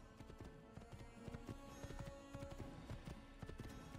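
Rapid rhythmic hoofbeats of a galloping horse in Assassin's Creed, steady and fairly loud throughout, with a busy background of game sounds.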